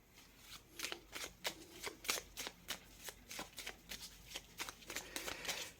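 Oracle cards are shuffled for a reading in a quick run of crisp riffling bursts, close and fairly quiet, with no voice over them.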